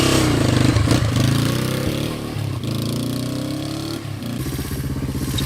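A Honda SL350 motorcycle engine runs close and loud, a steady throbbing idle with a few blips of throttle that briefly raise its pitch before settling back.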